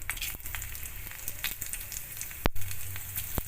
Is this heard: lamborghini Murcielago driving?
no